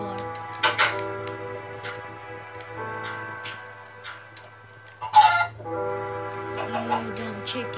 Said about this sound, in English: You dumb chicken, get back here.